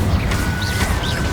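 The Incendio fire spell in Hogwarts Legacy bursts out as a loud, close crashing whoosh of flame with a sweeping, rushing texture across its short length.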